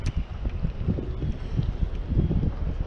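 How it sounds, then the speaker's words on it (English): Gusty wind buffeting the microphone at a Long Island beach while fishing for kingfish, low irregular rumbling bursts close to the mic, no talk. "It's a little windy."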